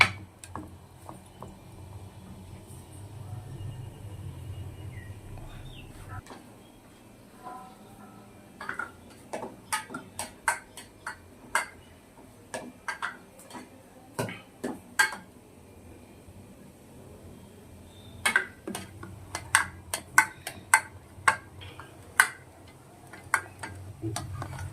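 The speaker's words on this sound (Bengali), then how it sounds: "একটু নাড়তে হবে, নেড়ে নেড়ে গলিয়ে নিয়ে নিতে হবে।" Soap base being stirred in a pot on a gas stove as it melts for homemade lemon soap, with irregular ticking and scraping clicks of the utensil against the pot, sparse at first and then denser in bursts, over a low steady hum.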